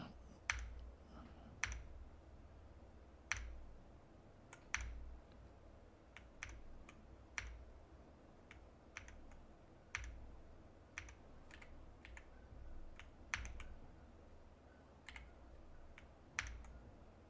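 Keys clack on an Aula Win60 magnetic switch keyboard in sparse, irregular presses, with crisp, close taps separated by short pauses against a quiet room.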